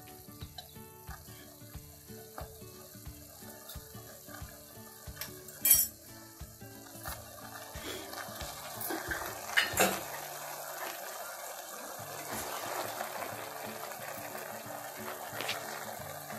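A colostrum and sugar mixture is stirred in a pan, with a spoon clinking and scraping against the metal in a steady, irregular rhythm, one sharp clatter, and a faint wet sizzle underneath.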